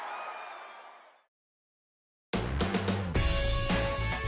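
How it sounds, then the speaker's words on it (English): A stadium crowd in the MLB 15 The Show baseball video game at a Giants game erupts into loud, dense cheering and applause after a brief silence, following a fading swell of crowd noise. "Here comes Crawford, and this game is over. And the Giants, once again, win a game in a very unusual way as this crowd goes crazy."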